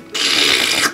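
A Little Tikes Little Helpers toy vacuum cleaner switches on with a sudden, loud, steady whirring buzz. It runs close by for about a second and then stops.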